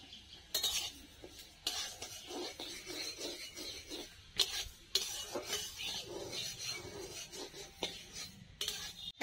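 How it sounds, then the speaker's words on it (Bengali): Gobindobhog rice is being dry-fried in a pan for muri ghonto, with bursts of scraping and rasping stirring against the metal and light clinks of a utensil, close and uneven. "এই দেখো গোবিন্দভোগ চালটা মা ভেজে নিচ্ছে"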